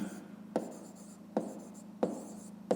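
A pen writes on paper during a fifth-grade maths lesson, with quiet scratching strokes broken by four sharp taps at regular intervals, close and without talk.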